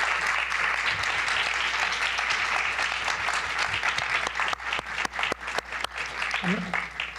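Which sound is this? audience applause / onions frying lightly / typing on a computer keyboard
audience applause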